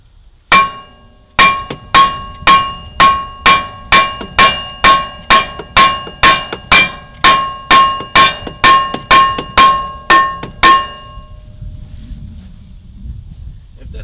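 Hammer blows on the front brake rotor of a 2014 Ram 3500 HD, about twenty loud, ringing metallic strikes in a steady rhythm, then a short quiet tail with faint background noise.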